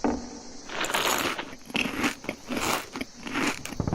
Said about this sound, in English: It's a very crunchy sandwich.